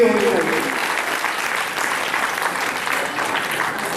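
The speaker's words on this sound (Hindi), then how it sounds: "सबसे पहले तो जोरदार ताली उनके लिए होनी चाहिए।" Audience at a theatre festival, Navonmesh Natya Utsav, breaks into sustained applause, dense even clapping from many hands throughout, with a brief voice at the start.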